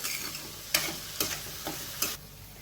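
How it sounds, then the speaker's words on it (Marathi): Onion and tomato sautéing in a pan for wheat noodle upma, a soft steady sizzle broken by three sharp spatula scrapes, with no voices. "कांदा टोमॅटो परतून झालेला आहे"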